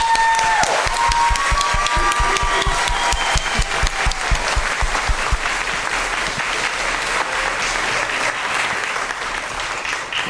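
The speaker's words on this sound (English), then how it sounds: "So let's give him a round of applause." A school board meeting audience gives a sustained round of applause, loud, dense clapping from a sizable crowd lasting around ten seconds, with a few brief tonal squeaks early on and no speech.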